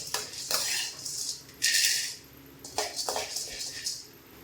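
Peanuts roasting in a pan as part of making a homemade health-mix flour, with irregular clattering and rattling of nuts and a utensil against the metal, coming in uneven bursts close by.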